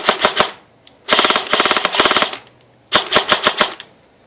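KWA SR10 airsoft rifle firing full auto in three rapid bursts of clicking shots, loud and close, with short pauses between bursts.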